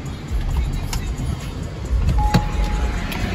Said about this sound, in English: Let me lay down my window a tad bit so I won't rock my shit.